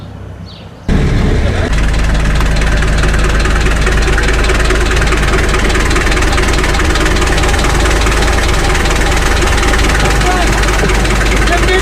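A tractor engine starts up and settles into a loud, steady idle close by, a low continuous chugging rumble with slight knocking that runs unbroken to the end.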